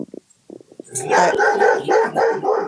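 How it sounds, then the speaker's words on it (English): Several dogs bark indoors, a few short yips at first and then a loud, continuous burst of overlapping barking close by. "there are my dogs, just in case you missed them"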